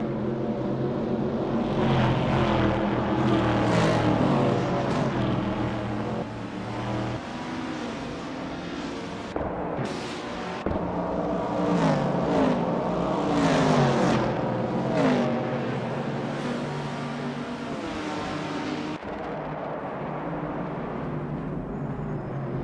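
Several race car engines roaring and revving through gear changes in a racing video game, loud and continuous with rising and falling pitch as cars jostle in the early laps.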